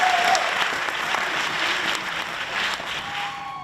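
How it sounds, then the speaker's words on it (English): Loud, dense applause from a gathered audience at a celebration event, a continuous wash of many hands clapping at once, close and sustained throughout with no talking over it. "Please give yourselves another round of applause."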